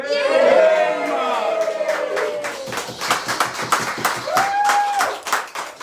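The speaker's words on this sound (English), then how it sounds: "Can we get a wee bit of a Glasgow cheer?" Wedding guests at a small Covid-era ceremony in a Glasgow venue cheer loudly, with whoops and a rising shout, then break into sustained scattered clapping, close and lively throughout.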